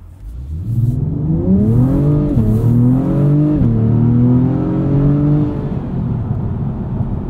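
A 2024 Acura TLX Type S launches hard in Sport Plus with all-wheel drive, the engine note climbing steadily through rising gears in a loud, continuous interior roar with brief dips at shifts.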